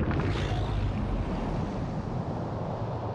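A bomb explosion from the film Arrival, heard as a loud, sustained low rumbling roar that fills the whole clip with no voices.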